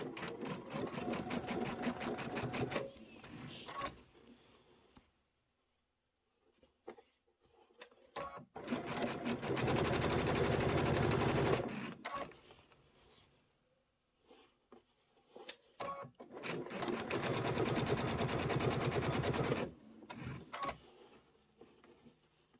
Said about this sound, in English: And I'm sewing something that's dimensional, that's going to get stuffed.